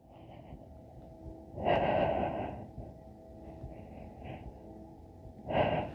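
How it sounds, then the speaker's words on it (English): Slow, deep breaths during a somatic yoga session, close and soft, with two long exhalations a few seconds apart over quiet room tone. "Breathe."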